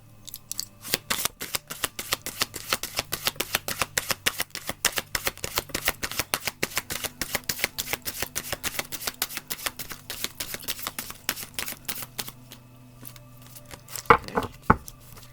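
Tarot cards shuffled and riffled in quick, dense bursts of crisp snapping clicks, steady for about twelve seconds, then a pause and a few sharper taps as cards are dealt into piles.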